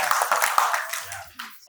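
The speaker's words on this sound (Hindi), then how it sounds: "हाँ हाँ ताली ताली।" Scattered clapping from an audience during a talk about weddings and farewells, a brief burst of hand claps that thins out quickly as voices carry over it.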